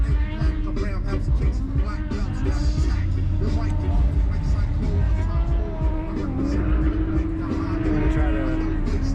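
A car engine drones steadily and loudly from inside the cabin while the driver drifts, with the revs rising and falling as the driver shifts and pulls the handbrake, and the engine never stops for the whole stretch.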